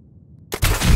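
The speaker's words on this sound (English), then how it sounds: "let's see what happens when we shoot through the wall" A gunshot fired through a wall in Fallout 4: a loud, sharp burst breaks a quiet low hum, then a sustained rumbling blast follows at full strength.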